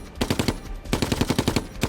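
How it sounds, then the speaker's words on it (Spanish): A German machine gun fires rapid bursts in a WWII battle scene, two volleys of sharp, evenly spaced shots separated by a short pause. "Una de las ametralladoras alemanas que hay al otro lado de la plaza está retrasando todo el avance."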